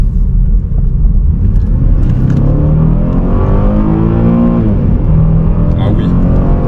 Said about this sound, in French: on va l'entendre ronronner un petit peu